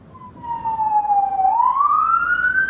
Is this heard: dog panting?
no